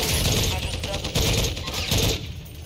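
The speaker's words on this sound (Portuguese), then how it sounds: "Ai, tiro da montanha." A burst of gunfire in the Warzone 2.0 video game, shots from a mountain. Rapid, clustered reports sound close and loud, with overlapping game noise.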